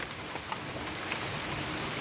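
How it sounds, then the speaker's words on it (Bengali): Steady rain pours outside during the monsoon season, a dense, even hiss of drops hitting surfaces with no talking over it. "দেখো আবার জোরে বৃষ্টি চলে আসছে"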